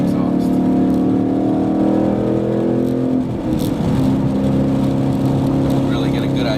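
A 2011-2014 Ford Mustang GT with a Borla exhaust drones loudly inside a tunnel, a steady deep engine roar that shifts pitch midway as the revs change, constant throughout.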